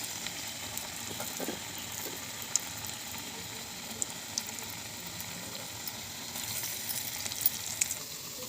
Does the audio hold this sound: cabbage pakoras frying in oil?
yes